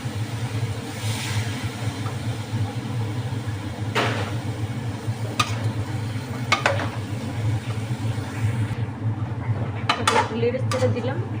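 A spoon scrapes and clinks against a cooking pot as bottle gourd with shrimp is stirred, a few sharp metallic knocks over a steady sizzling background hum.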